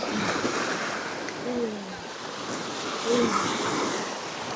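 Beach surf and wind form a steady broadband wash, with a brief faint voice-like murmur standing out once or twice over the constant noise.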